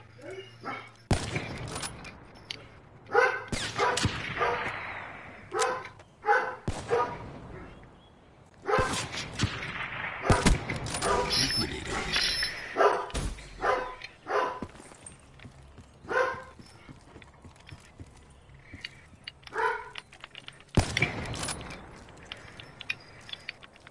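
A dog barks in irregular bursts close by, mixed with clicks, thumps and scattered human voices over a faint steady hum.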